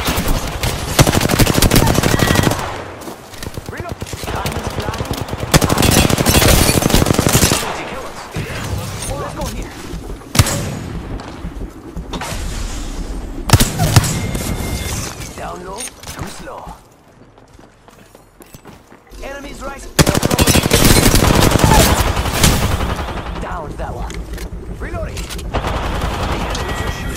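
Apex Legends gunfight with loud bursts of automatic gunfire in several long volleys, broken by quieter gaps, with voices calling out over the shooting.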